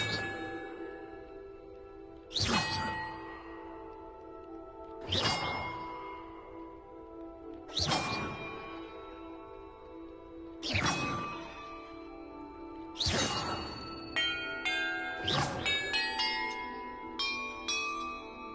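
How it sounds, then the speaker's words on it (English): Bells struck one at a time in a video game puzzle, six ringing strikes spaced about two and a half seconds apart, each decaying slowly, followed by a quicker cluster of chimes near the end. "Perhaps the map contains clues about the order I'm supposed to ring the bells in."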